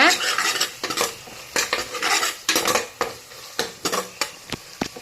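Spice powder is stirred into sautéed tomatoes in a pot for one-pot tomato rasam rice, a spoon scraping and clinking against the metal in steady repeated strokes over a soft sizzle, up close with no talking.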